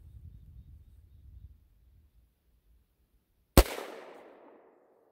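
A 300 Blackout rifle with an 8.5-inch Aero Precision barrel fires one Hornady 110-grain Full Boar GMX round into ballistics gel: a single sharp, loud crack with a short echoing tail, after quiet low rumble.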